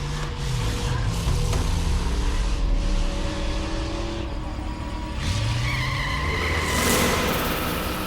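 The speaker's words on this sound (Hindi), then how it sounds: "ये गाड़ी है।" Car tires squeal and skid repeatedly as an engine revs, loud and continuous with sweeping pitch changes.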